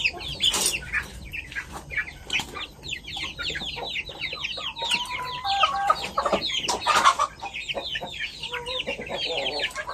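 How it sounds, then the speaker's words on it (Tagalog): Chickens in a coop with a rooster, one rooster per eight hens, fill the air with busy overlapping clucks and chirps, plus a few longer calls standing out close by. "susunod natin ito ating tandang"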